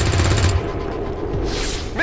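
Overwatch gunfire in XCOM 2: War of the Chosen, a short burst of rapid game gunshots in the first half second followed by a lower rumbling tail and a brief sharp crack near the end.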